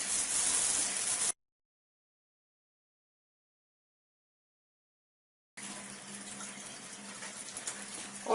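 Tap water running through a Kangen SD501 water ionizer into a sink makes a steady hiss and splash, cut by a long stretch of total silence before the flow resumes.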